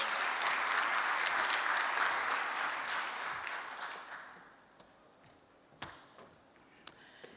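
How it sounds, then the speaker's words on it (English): A conference audience applauds warmly, then the clapping thins out and fades to a few scattered claps. "give her a big, warm round of applause and welcome"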